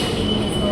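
An eight-car KRL commuter train rolls along in Jakarta, a brief, steady rumble heard from onboard with a faint high whine from the wheels.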